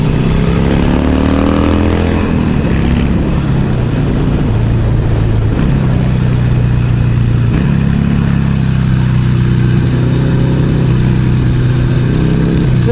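A motorcycle on Michelin Commander tires rides a downhill corner stretch, its engine droning loud and close with steady revving and shifting pitch, under heavy wind rush and no audible talk.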